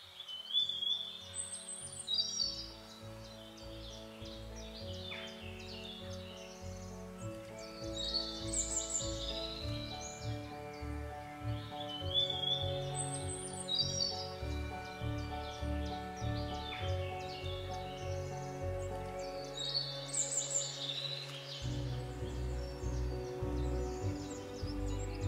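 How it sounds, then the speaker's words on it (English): Birds calling near a forest on a summer morning, including jackdaws and wood pigeons, with chirps and calls repeating over a steady low background hum throughout. "I can hear wood pigeons singing from the forest"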